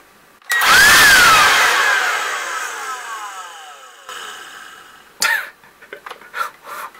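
A SnapFresh cordless rechargeable blower is switched on with a sudden loud rush of air and a rising whine. The rush slowly fades, and a few shorter bursts of air follow, all close up with no talk.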